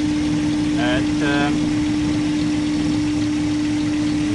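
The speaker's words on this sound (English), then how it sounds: "On a hot engine, on idle, standing, parked, obviously," A hot engine idling while parked, running on a 75% diesel and 25% gas mix under rusEfi control with 55 degrees of timing advance, giving a constant rumble with a steady tonal hum while someone briefly speaks.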